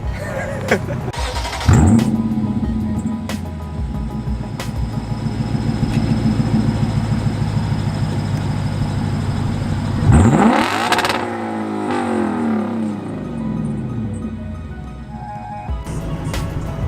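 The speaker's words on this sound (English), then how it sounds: "that exhaust sounds good inside too" A Lexus RC F engine revs hard twice, with rising and falling exhaust roars, and idles steadily between the bursts, heard close up.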